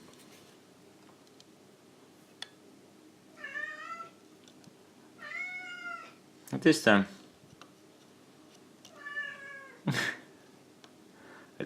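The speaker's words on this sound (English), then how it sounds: "I got a very vocal cat, as you can hear." A very vocal cat meows several times indoors, with drawn-out, clear cries spaced a couple of seconds apart, close by, and a sharp clatter partway through; a person speaks briefly.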